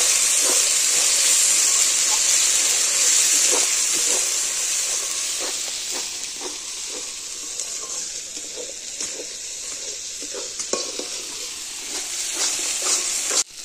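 Spice paste frying with chilli powder in a pan, a steady hissing sizzle that eases slightly midway, broken by soft scraping stirs, close and alone.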